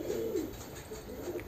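Soft, low pigeon cooing, a steady murmuring coo that rises and falls, fairly close with no talking.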